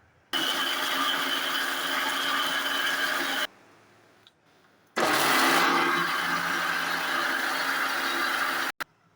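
A mixer grinder blending coconut tomato chutney whirs loudly in two long bursts separated by a short pause, then cuts off abruptly.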